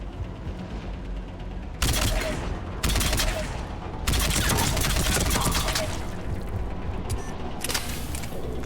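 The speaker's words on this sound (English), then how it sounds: "Damn, this assault rifle" Assault rifle fire in the video game Mass Effect 3 comes in several loud, sharp bursts of a second or so, separated by brief gaps over a constant background of combat noise.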